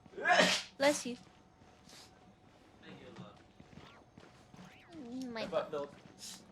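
Two sharp, loud sneezes burst out right at the start, close together, followed by quieter chatter and talking voices.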